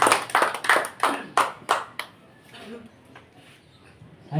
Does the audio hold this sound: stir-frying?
no